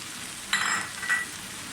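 Homemade pulao masala spices roast in a pan with a low sizzle, broken by two short bursts of stirring scrapes.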